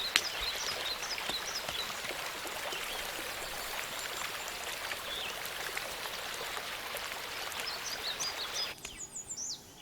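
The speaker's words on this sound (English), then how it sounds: "I think it's going to rain heavily." Steady heavy rain falls outdoors, a dense continuous hiss of pouring water that stays even throughout, with faint bird calls over it before it thins out near the end.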